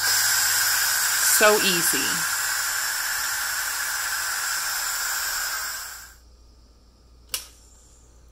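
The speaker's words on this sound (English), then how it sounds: "flip this switch from seal to vent and the steam's going to come out there" A loud, steady hiss of steam venting from an Instant Pot Pro pressure cooker runs for about six seconds before stopping abruptly; a short spoken remark overlaps early, and a sharp click follows.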